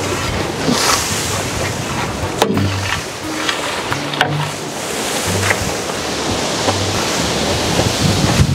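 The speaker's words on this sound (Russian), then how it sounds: "Такой ветер, и камера может слететь" Strong wind roars and buffets the microphone throughout, with broadband rushing noise and gusty thumps, alongside a faint wash of surf.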